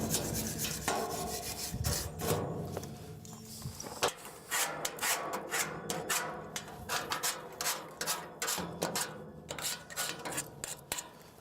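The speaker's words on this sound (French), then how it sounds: "un petit coup de brosse derrière." A brush scrubs a rusty metal gate in rapid back-and-forth rasping strokes, up close and loud, with short pauses between bursts of scrubbing.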